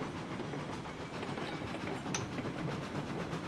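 A small locomotive in the Railroads Online video game, hauling eleven cars of raw iron with little acceleration, gives a steady, faint rumble and hiss of running along the rails, with no voices.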